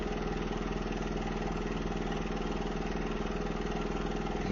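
A car waste oil furnace burning soot out of its saturated firebox, giving a continuous, even roar with a steady fluttering pulse that never changes in level.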